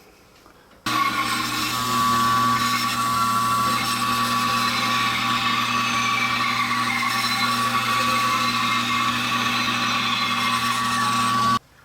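A bandsaw runs steadily and close by for about eleven seconds, a high whining buzz as it cuts a 5-inch circle from wood.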